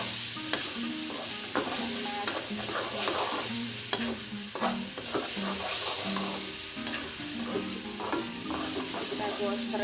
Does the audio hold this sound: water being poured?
no